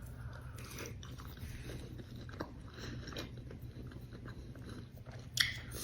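Someone eating sweet and spicy pork with bulduck noodles, close soft chewing and wet biting sounds with a sharper crunch near the end, quiet and without talking.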